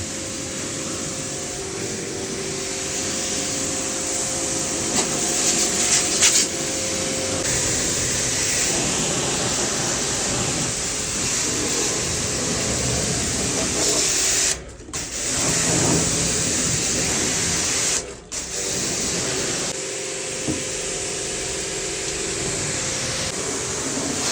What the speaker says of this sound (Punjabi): ਵਾਸ਼ਰ ਦੇ ਨਾਲ ਇਹਨੂੰ ਚੰਗੀ ਤਰ੍ਹਾਂ ਪਾਣੀ ਮਾਰ ਕੇ ਇਹਦੀ ਸਰਵਿਸ ਕੰਪਲੀਟ ਕਰ ਰਹੇ ਆ